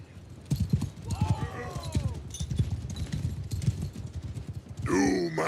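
Horses' hooves clip-clop in a quick, busy rhythm as a party mounts up in a Warhammer video game, with a whinny and a gasp-like voice sound near the end.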